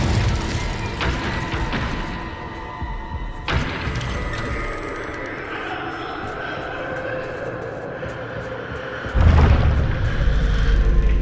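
Incendio fire spell cast in Hogwarts Legacy on PS5, a loud booming blast with a rushing roar that swells, fades and then thumps again near the end, alongside a game voice.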